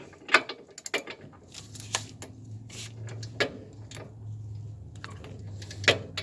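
A wrench ratchets in close, uneven clicking bursts as a 19 millimeter nut is tightened on the rear suspension of a 2004 Nissan Armada, with a low steady hum underneath.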